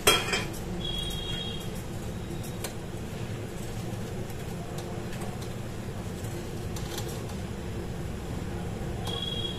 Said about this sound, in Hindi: अब हम ये खड़े मसाले डाल देंगे इसके अंदर